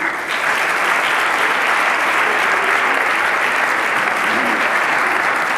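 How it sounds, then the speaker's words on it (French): An audience in a hall at a cybersecurity forum applauds second-place winners with dense, loud, sustained clapping that starts abruptly and holds steady throughout. "On peut aussi les applaudir."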